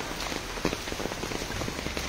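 A brief, steady wash of typhoon rain patters close by on a surface, an even continuous hiss with small dripping accents and no voices.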